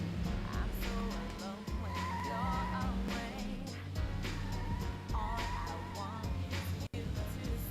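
A car drifting in Project Gotham Racing, the engine roaring continuously with tire squeal and skidding throughout, loud and close.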